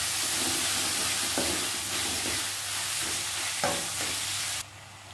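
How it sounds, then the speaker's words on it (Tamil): Chopped tomato sautéing with onion and ginger garlic paste in a pan for a mutton paya curry, giving a steady close sizzle with periodic scraping stirs, then the sizzle drops away abruptly near the end. "அதை இதில் சேர்த்துக்கலாம். சேர்த்து நல்லா வதக்கிக்கோங்க."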